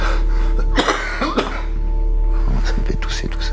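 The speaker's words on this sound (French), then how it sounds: "Ça me fait tousser tout ça." A few short, rough coughs sound close by over a steady low hum, with no talking.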